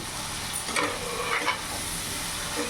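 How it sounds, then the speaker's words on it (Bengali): Fried potatoes and chillies stirred into a fish head curry made with a katla fish head, a steady close sizzle of frying with a few soft scraping stirs passing through, no voices. "এবার এরই মধ্যে আমি কেটে রাখা ভেজে রাখা আলুগুলো দিয়ে দেবো।"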